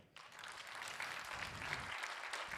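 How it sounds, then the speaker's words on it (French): Audience applause for the technical crew at a Christmas holiday show, starting abruptly and holding steady but fairly soft, with no talk over it. "On va commencer par applaudir très fort toute l'équipe technique qui réalise ce spectacle."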